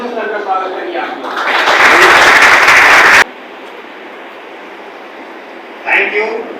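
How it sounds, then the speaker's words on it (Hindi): Loud applause from an audience welcoming a speaker at an educational talk, a dense burst of clapping that swells over a couple of seconds, then cuts off abruptly, leaving quiet room tone and a brief voice near the end. "एक बार जोरदार तालियों से सर का स्वागत करिए"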